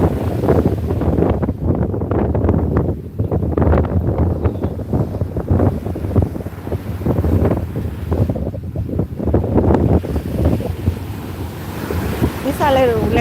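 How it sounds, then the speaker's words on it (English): Small ocean waves break against a rock fence on the Chumash coast, a loud continuous surging wash heavily buffeted by wind noise on the microphone. "These are little waves. They're not big waves."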